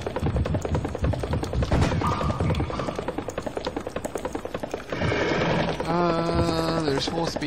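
Horse-like enemies neigh and whinny over busy game noise and clattering in Serious Sam HD: The First Encounter, with a longer whinny near the end.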